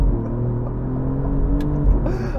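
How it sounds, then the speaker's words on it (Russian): An Alfa Romeo Giulia GTAm sports sedan drives along a road, a loud, steady low engine drone with a slight rise in pitch, heard close and continuous. "придется мне развернуться и еще раз проехаться по этой дороге"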